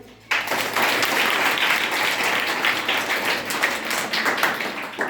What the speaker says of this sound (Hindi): मीराबाई के लिए हम लोग ताली बजाएंगे।